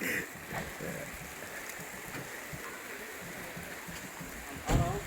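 Rain falling at Lakhamandal Shiv temple in Uttarakhand, a soft steady outdoor hiss with scattered drops and a brief louder knock near the end.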